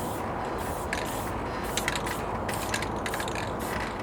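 A spray paint can of leaf green shaken hard before mural painting, its mixing ball rattling in rapid uneven bursts over a constant hiss of background noise.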